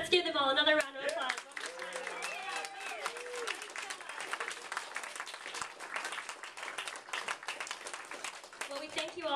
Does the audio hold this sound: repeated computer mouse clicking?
no